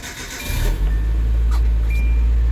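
A Nissan D21 Hardbody pickup engine cranks briefly, then catches and settles into a loud, steady low idle that continues to the end.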